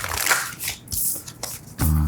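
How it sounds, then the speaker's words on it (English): Tarot cards shuffled by hand, a brief close riffling and sliding of card stock with soft flutters and one sharper burst at the end. "I just want to shuffle."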